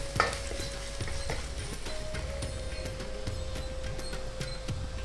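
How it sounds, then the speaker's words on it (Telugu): Coconut being stirred in oil that is still hot after the stove is switched off, with rhythmic scraping spoon strokes over a faint, steady sizzle and a few light clinks. "కొంచెం హీట్ అయిన ఆయిల్లోనే కొబ్బరి వేగిపోతుంది."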